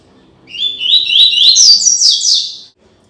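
A papa-capim (capuchin seedeater) sings a bright, rapid phrase of high chirping whistles lasting about two seconds, loud and close against a quiet background.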